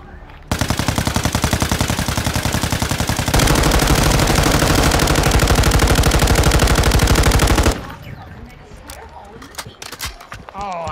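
Light machine gun firing in Warzone: a long, loud, rapid sustained burst of automatic fire that swells louder midway and then stops abruptly, followed by quieter game sounds and speech.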